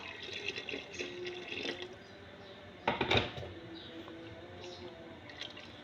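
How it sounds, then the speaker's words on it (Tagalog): Water poured into a pot of meat for Arabic kabsa gives a faint splashing, trickling sound with small clinks of the pot, rising to a brief louder splash midway before settling back to soft dribbles. "lagyan natin ng tubig."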